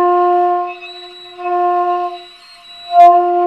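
Sustained breathy notes on a xiao, the Chinese end-blown flute, with audible air leaking around an incomplete tone; several held pitches, close and alone, with a brief louder swell near the end.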